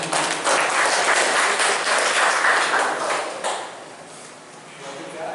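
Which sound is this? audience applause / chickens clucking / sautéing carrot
audience applause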